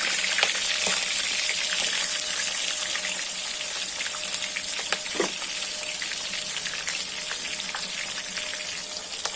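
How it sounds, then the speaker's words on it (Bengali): Fish heads frying in a pan for a cabbage ghonto: a loud, steady broadband sizzle that runs throughout, with occasional pops and a faint clink near the middle, and no voices. "প্রথমেই মাছগুলো ভেজে নিচ্ছি, মানে মাছের মুড়োগুলো"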